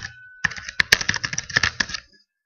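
Quick keystrokes on a computer keyboard come close and clear, a short burst of about a dozen crisp clicks lasting under two seconds before falling silent.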